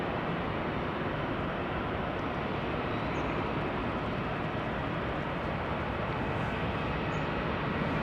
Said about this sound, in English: Embraer 175 to Poland, Wrocław or something.